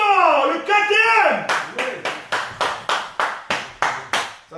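Audience clapping for a boxer at a Marseille boxing event, a roughly even series of about ten sharp, loud claps in steady rhythm that follows brief talk at the start.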